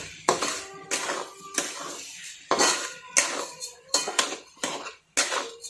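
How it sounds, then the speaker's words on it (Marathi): Grated raw mango being stirred with jaggery and sugar in a pot over a low flame, giving repeated scraping, clinking strokes of a spoon against the metal in an irregular rhythm, close and fairly loud. "हे सर्व आता आपण मिक्स करून घेऊया."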